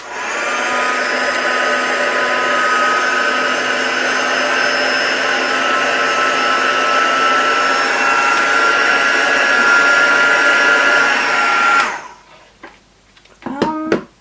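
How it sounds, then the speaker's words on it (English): A heat gun blows onto deco foil with a loud, steady whirring roar and a high whine for about twelve seconds. It then cuts off, leaving brief handling rustles near the end. "see how this would work if I tried to use the heat gun"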